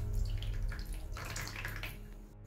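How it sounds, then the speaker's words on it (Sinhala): Water used to wash rice being poured out into a container in a kitchen, a close, splashing gush that surges midway and then tapers off. "මෙහෙම එකතු කරගත්තට පස්සේ මම මේ වතුර මල් පැලවලට දානවා"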